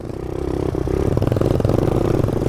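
A mini motorcycle engine on a dirt trail keeps up a steady mid-pitched buzzing drone that rises slightly as it accelerates, close and continuous, with no speech.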